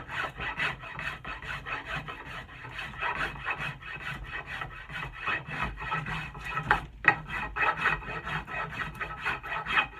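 Yellow birch wood handle being smoothed by hand to remove bandsaw marks, giving a steady rhythmic rasping rub of repeated strokes, close and fairly loud with no talk.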